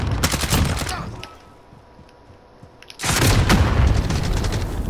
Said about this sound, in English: Bro, he's throwing grenades at me.